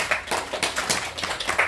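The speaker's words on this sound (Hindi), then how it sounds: "जोरदार तालियां बजाइए लोग" Loud, dense clapping by Delhi University students at a Human Peace Foundation meditation workshop, close and energetic with uneven bursts of hand slaps packed tightly together.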